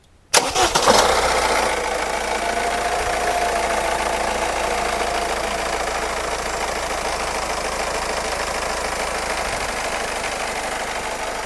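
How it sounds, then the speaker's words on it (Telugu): A used car engine cranks briefly and catches, then settles into a steady, loud idle that runs on alone with no one speaking. "ఒకసారి ఇంజిన్ స్టార్ట్ చేసి మీకు చూపిస్తాను"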